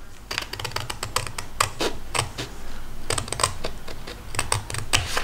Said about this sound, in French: Et puis là, je vais couper ici.